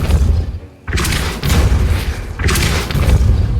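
A Depulso spell blast in a Harry Potter video game makes two heavy, booming bursts that roar loudly and fill the sound, with a brief drop between them and no speech over them.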